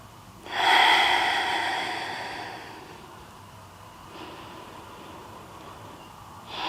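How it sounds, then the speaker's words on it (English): Deep breathing during a vinyasa yoga practice: one loud, airy inhale-exhale up close, then softer breaths trailing off, with no talking. "We'll take 3 more breaths."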